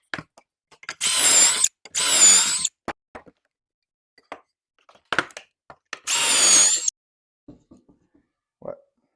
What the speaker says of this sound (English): That's where I'm going to drill my pocket hole.